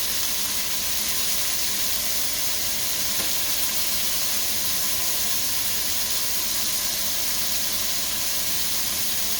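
Sweet onion, garlic and shallot hiss and sizzle steadily in a hot pan, a continuous bright frying crackle that holds even throughout with no talking.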